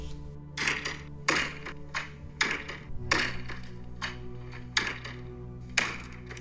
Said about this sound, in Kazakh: Сәлден соң біреу сыртқы есікті доқпақтап соққылай бастады.